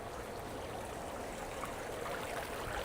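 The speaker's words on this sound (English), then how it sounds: "We can control whether or not we want the water flow to the waterfall." Water from the waterfall feature of a Buenospa hot tub pours in a soft, steady, even splash, faint and constant with no voices.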